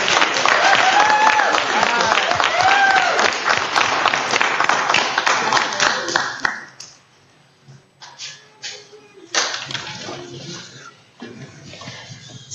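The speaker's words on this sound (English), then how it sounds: "Let's give him one more round of applause." An audience at a city council meeting applauds for about six seconds, a dense steady round of clapping that then stops, leaving quieter room sounds and a few scattered noises.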